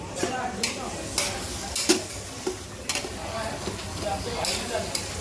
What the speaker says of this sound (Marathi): पप्पा बनवतात बैंगन मसाला